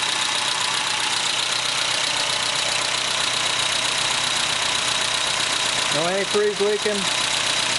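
A Mazda B2200 engine idles steadily just after a timing belt change, a close, even mechanical rumble throughout, with someone talking briefly over it near the end.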